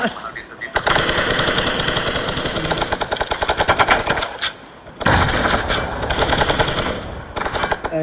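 Rapid automatic gunfire in a battle royale esports league match, with loud, sustained bursts broken by brief pauses, and a caster talking over the shots.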